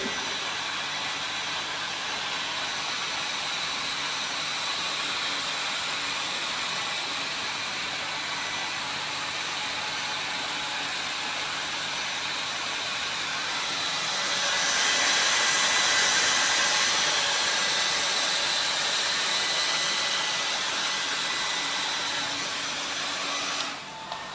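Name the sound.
dryer drying a metal specimen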